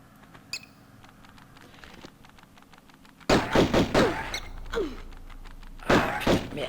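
A bat attacking in Tomb Raider Remastered: quick high squeaks and fluttering ticks, then heavy thuds and scuffling hits as the fight breaks out, loud and close, with no speech.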